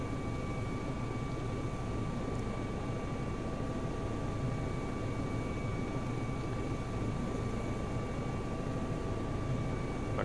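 An EC135 helicopter's rotor and turbine engine in the RotorSim simulator, a steady broadband roar with a constant whine, continuous and even throughout as the collective is raised and torque builds.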